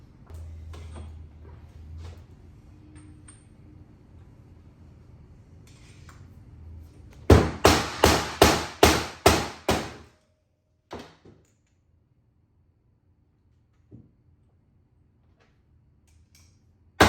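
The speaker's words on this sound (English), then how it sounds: "Just give it light taps on each side and it should come out." Light hammer taps knock a jackshaft bearing out of a Sur Ron electric dirt bike, a quick run of about eight sharp metallic strikes close by, then a few isolated knocks after a pause, with no talking.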